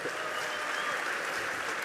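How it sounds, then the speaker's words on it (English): A dense, steady burst of audience applause fills a conference hall at the close of an onstage talk at Cannes Lions, continuous clapping with no breaks and no voices. "Mark and Elon, one more round of applause."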